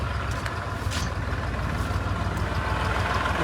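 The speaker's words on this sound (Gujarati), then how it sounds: "તો ટ્રેક્ટર આવી ગયું" A tractor engine idles nearby at a farm threshing site, a steady low rumbling chug that continues through the short stretch without speech.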